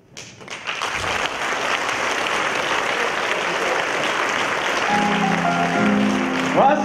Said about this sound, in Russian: Ваши бурные аплодисменты этим очаровательным девушкам из управления